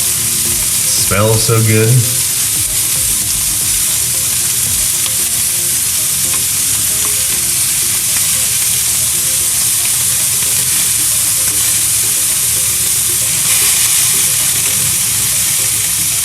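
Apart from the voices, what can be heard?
meat frying and sizzling in a pan for Chapaguri ramen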